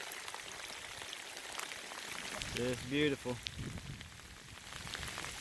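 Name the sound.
rain shower falling outdoors by a river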